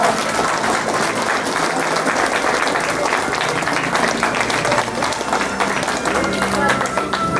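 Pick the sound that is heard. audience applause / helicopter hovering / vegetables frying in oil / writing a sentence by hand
audience applause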